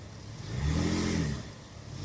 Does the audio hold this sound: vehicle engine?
yes